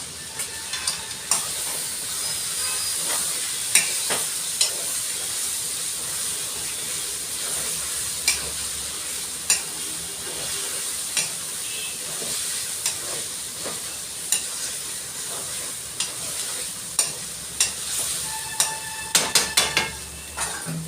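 Masala sizzles and fries in a pan, stirred steadily with scraping strokes against the metal over a continuous hiss, with sharp utensil clicks scattered throughout and clustering near the end.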